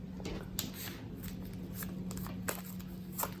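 Tarot cards being shuffled close up, soft papery riffling and rustling with a few sharper taps from the deck, quiet and continuous with a faint background hum.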